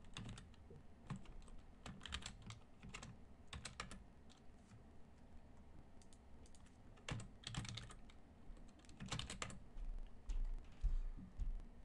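Java code being typed on a computer keyboard: quiet, close clicking keystrokes in uneven bursts and pauses, alone with no talk.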